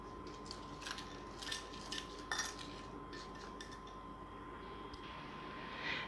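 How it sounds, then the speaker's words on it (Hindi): Egg shell powder and two other scrub ingredients being stirred together in a bowl, giving soft scraping and clinking of a spoon in faint irregular bursts against a low steady background hiss. "इन तीनों चीज़ों को हम इतना मिक्स करेंगे कि ये बिल्कुल यकजान हो जाएं।"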